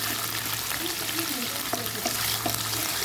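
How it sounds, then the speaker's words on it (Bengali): Onions fry lightly in a little mustard oil in a pan, a soft steady sizzle with occasional stirring clicks close by. "অল্প একটু সর্ষের তেল দিয়েছি এখানে ভেজে নিচ্ছি হালকা একটু ভেজে নেব"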